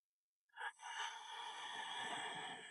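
One slow, audible breath during a yoga flow, a soft airy rush that starts with a brief catch and then flows out steadily for about two seconds, faint and close.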